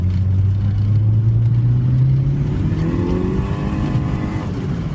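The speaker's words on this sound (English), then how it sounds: "A lot of rattles and bangs in this car." A turbocharged Toyota Corolla on coilovers drives under load, its engine droning loudly and rising in pitch as it accelerates, with some rattling from the car mixed in throughout.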